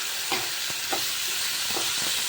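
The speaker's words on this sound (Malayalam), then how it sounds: "നന്നായി വഴറ്റി വാടി വരട്ടെ കേട്ടോ സബോള വാടി വരട്ടെ" Sliced onions sauté in a pan for masala dosa filling, a constant hissing sizzle close by with a few soft scraping stirs spaced through it.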